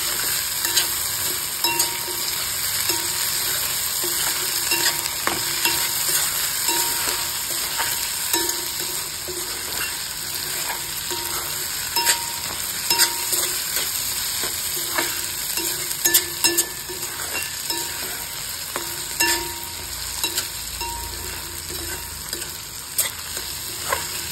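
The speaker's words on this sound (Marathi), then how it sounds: "आता यात आपण ही मूग डाळ घालून घेऊ. मूग डाळ छान परतून घेऊ." Moong dal and onion sauté in a pan for a garlic-greens and potato curry, a continuous bright sizzle with frequent clicks and scrapes of a spoon stirring, steady and close.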